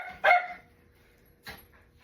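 An elderly schnauzer over ten years old barks twice: one sharp, loud bark near the start, then a second shorter bark about a second later, with near silence in between.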